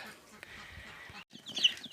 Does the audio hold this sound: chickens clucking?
yes